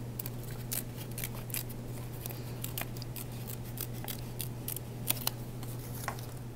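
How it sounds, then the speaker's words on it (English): Scissors make quick, light snips through paper word cut-outs for an art project. The cuts come irregularly over a steady low hum, close and fairly quiet, with no voices. "and you see it pokes a hole into that paper, and then I can carefully just snip it out."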